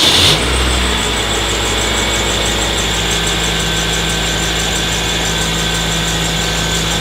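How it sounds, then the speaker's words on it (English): Car engine cranking briefly, then catching and settling into a steady, continuous idle after a jump start from a lithium-ion battery jump starter, loud and close with no talking. "Let's go ahead and start the car."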